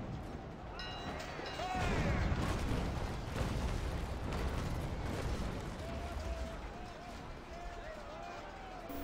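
Deep booming cannon fire from sailing warships in the naval battle game Naval Action, a rolling broadside with heavy rumbling, heard under loud overlapping voices.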